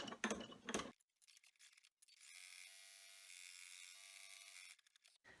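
An embroidery machine stitches the tack-down run that holds the fabric of an in-the-hoop fish coaster. It gives a steady, even mechanical whir for a few seconds, preceded by brief loud handling noise and a short pause.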